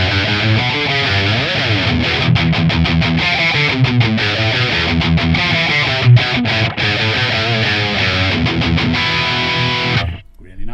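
An electric guitar played through a ToneX channel 3 gain fat cap amp capture, a driven distorted tone with strummed chords and picked runs for about ten seconds before cutting off.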